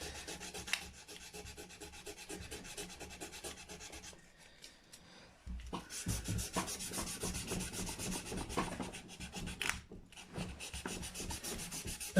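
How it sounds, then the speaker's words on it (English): A Gibson Les Paul nut gets polished with 240 grit abrasive, a close, fine rhythmic rubbing and rasping in short repeated strokes, pausing briefly midway before resuming with firmer, denser scrubbing. "I start with 240 just to get most of the tooling marks out when I'm polishing up a nut."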